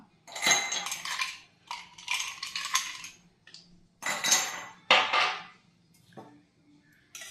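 Ice cubes dropped into a glass of banana shake give a handful of separate bright clinks and clatters with short quiet gaps between them, close by and with no talking.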